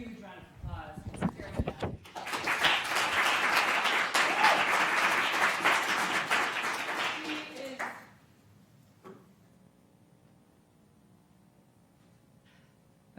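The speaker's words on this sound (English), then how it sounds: "let's give a huge round of applause." An audience at a law enforcement and social justice event applauds loudly and steadily for about six seconds before the clapping stops abruptly, leaving a quiet room; a brief voice is heard just before the applause begins.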